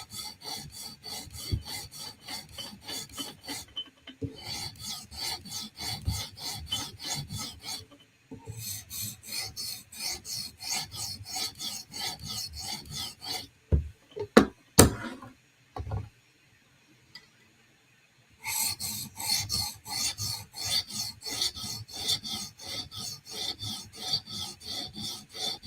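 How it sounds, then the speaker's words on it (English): Steel knife blade rasping across a sharpening stone in steady back-and-forth strokes, close and fairly loud, with pauses and a few sharp clicks in the middle before the stroking resumes. "Let's just do a quick pass to line up our scratches and minimize the burr."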